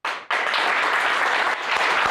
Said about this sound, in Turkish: Daha çok alkış istiyorum ona, daha çok.